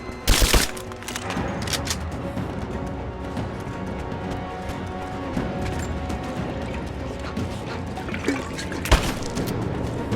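Dense, chaotic gunfire in the Rise of the Tomb Raider video game, with a sharp burst at the start and another near the end over a constant rumbling, crackling battle din.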